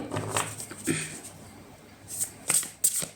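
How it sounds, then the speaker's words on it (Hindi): Tarot cards are drawn and shuffled from a deck in a few quick papery bursts and slaps, close and fairly quiet, with brief pauses between the handling sounds. "तो अभी हम क्रोडेक से भी थोड़े कार्ड्स लेंगे।"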